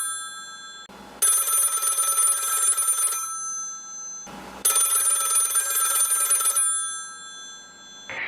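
An old-style telephone bell rings in two long trilling bursts separated by a pause, loud and close, with a brief clatter before each ring, in a radio play of "Sorry, Wrong Number".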